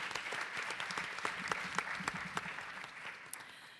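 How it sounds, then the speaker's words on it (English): A small audience at a history forum on women trailblazers gives a faint, scattered round of applause, with individual claps standing out sharply throughout. "And I think that's worth a round of applause."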